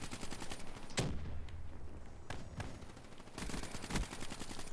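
Video game gunfire from Call of Duty Black Ops 3, with dense rapid bursts and sharp individual shots that come and go over a steady background of game noise, loud and close.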